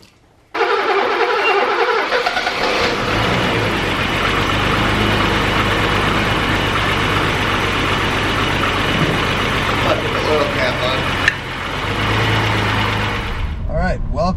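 A BMW 635CSi's M30 straight-six, revived after years of sitting, cranks and catches abruptly, then settles into a loud, steady idle that runs on with a brief clunk near the end.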